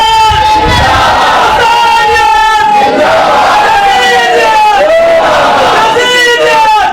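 A loud crowd at a Shia majlis gathering at Rafiq Nagar Qabristan chants a slogan in unison, voices rising and falling in repeated call-and-response waves throughout.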